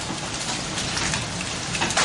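Rain pouring steadily during a thunderstorm in Ghent, a continuous dense hiss of drops, fairly loud and close, with no talk.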